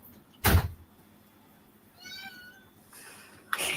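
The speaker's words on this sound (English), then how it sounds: "he just sounds like a little tiny kitten" A small cat meows once in a thin, high, kitten-like voice, faint and indoors, framed by two brief louder thumps or knocks, one before and one after.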